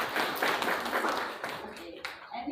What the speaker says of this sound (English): Please clap for the Supriya.